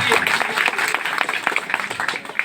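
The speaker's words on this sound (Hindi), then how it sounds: "जोरदार ताली बजाएं उनके लिए भी।" Applause from an audience at a school annual function, honouring a girl student who came first in her district: a steady, dense patter of many hands clapping throughout, fairly close and loud, with faint voices mixed in.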